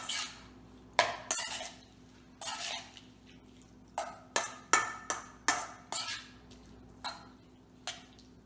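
A spoon clinks against a bowl while a sriracha hot sauce mixture is stirred, giving about a dozen sharp, close knocks and scrapes in an uneven rhythm over a low steady hum, with no voices.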